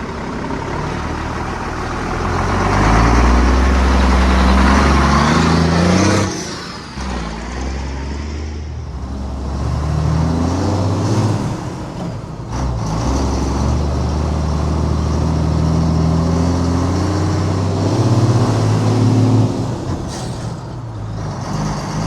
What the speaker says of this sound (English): This is my second time ever driving a twin stick truck on the road.